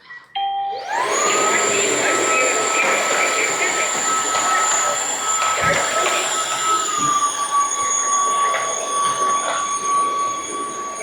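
An Uwant D100 wet-dry vacuum cleaner spinning up and running on dry mode over carpet, its motor whining with high steady tones that dip slightly partway through, close and continuous.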